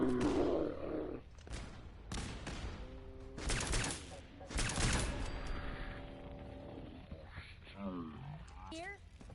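Bursts of gunfire from a PS4 video game battle, several sharp shots and volleys spread through the moment among roaring effects and other game noise, with a voice speaking over parts of it.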